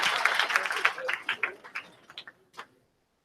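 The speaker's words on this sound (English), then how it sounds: "Give them a round of applause." Keynote audience at a conference applauds, a dense burst of clapping that quickly thins to a few scattered claps and fades into quiet.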